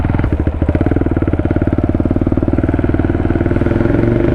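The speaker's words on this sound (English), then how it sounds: "I've always wanted to go rev in that parking garage, so I think it's time." A KTM Duke 390 motorcycle revs inside a parking garage, its single-cylinder engine loud, close and pulsing steadily, booming off the concrete walls with no one talking.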